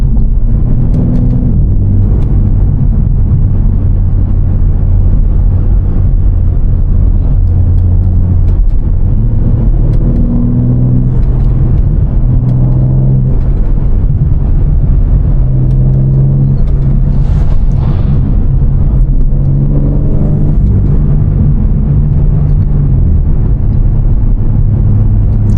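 A BMW M3 Competition with the ZF automatic and xDrive drives on a public street, its engine giving a steady, loud low rumble with gentle swells as it accelerates, and no talking.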